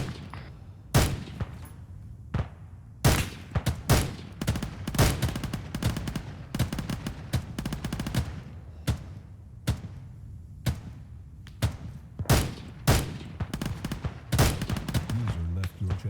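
Sharp gunshots ring out in a military video game set in Afghanistan, in irregular single cracks and rapid bursts that are loud and close, with occasional voices between the shots.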